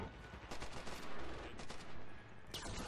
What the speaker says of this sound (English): Oh, see that gunfire?